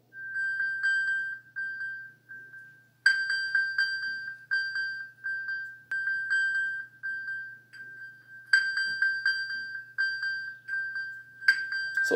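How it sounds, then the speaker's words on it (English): An iPhone rings at full volume after being triggered remotely through Find My iPhone, sending out loud, bright repeating alert chimes in bursts with short pauses, over a faint steady hum and with no talking. "the iPhone will start ringing in the highest"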